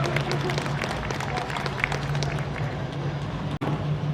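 An outdoor audience at a car show award ceremony gives a sustained round of applause, dense clapping continuing steadily with a voice heard over it.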